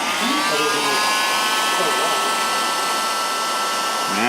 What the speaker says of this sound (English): Now let me get my heat gun.